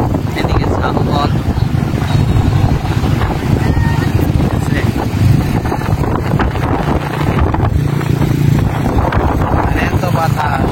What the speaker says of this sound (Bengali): এত বাতাস, মোবাইল ধরে থাকা কষ্টকর হয়ে যাচ্ছে বাতাস।